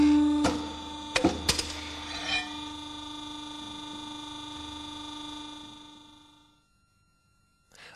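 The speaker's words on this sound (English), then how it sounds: "one sees the notching of three different sheet thicknesses without die clearance adjustment" Boschert notching machine cutting sheet metal of three different thicknesses, giving a few sharp clunks early on over a steady mechanical hum and rasp that fades out before the end.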